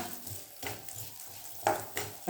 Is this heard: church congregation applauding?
no